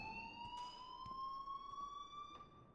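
An electronic school fire alarm in the video game Life is Strange sounds continuously as a steady, slowly rising tone with bright overtones, loud and alone with faint clicks behind it.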